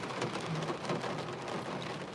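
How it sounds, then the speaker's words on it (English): Steady rain pours and patters on surfaces with a low rumble of thunder underneath, a continuous, even wash of moderate loudness with no voices. "So let's just finish with feeling that rain."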